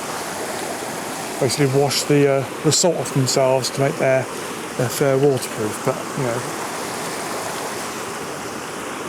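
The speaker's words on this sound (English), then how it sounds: "this fresh water flowing into the sea" Fresh water from a stream runs into the sea on the shore of the Isle of Arran, Scotland, a steady broadband rush that continues under someone talking and is left alone once he stops.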